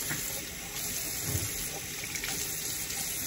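Hot water runs steadily from a tap, a continuous broadband rush of flowing water that stays even and fairly close throughout, with no talking over it.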